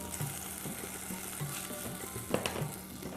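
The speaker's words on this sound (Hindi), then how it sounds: "सफ़ेद सिरका डालें" White vinegar poured into chillies frying in a pan, giving a steady close sizzle with small crackles and a brief splash, no voices.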